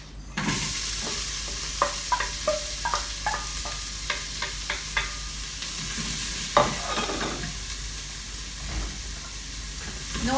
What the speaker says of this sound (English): all I'm doing here is really browning the onion a little bit, just golden color